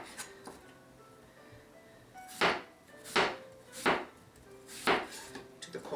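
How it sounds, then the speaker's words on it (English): A knife slices apples thin on a cutting board for an endive and kohlrabi salad, giving four evenly spaced crisp cuts in the second half, near and fairly soft, after a quiet stretch. "And now with the apples again, I just started slicing them thin."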